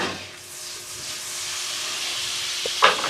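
Butter heating in a hot frying pan gives a steady, soft hiss across the whole stretch, with a brief louder crackle near the end.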